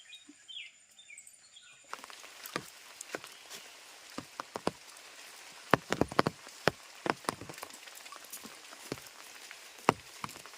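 Scattered raindrops patter and tap on a surface, irregular and close, with a faint bird call at the start.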